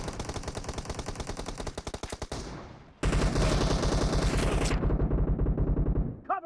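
Rapid gunfire from a Kar98k in PUBG Mobile team deathmatch: a dense string of loud, close shots, a brief pause, then a second, even heavier burst of fire that fades out at the end.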